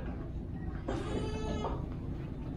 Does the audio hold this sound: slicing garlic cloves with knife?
no